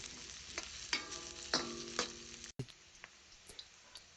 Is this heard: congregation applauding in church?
no